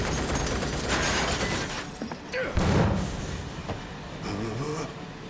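A train rumbles and clatters continuously in Final Fantasy VII Remake, loud and close with rattling wheels and a brief metallic screech, while characters talk over it.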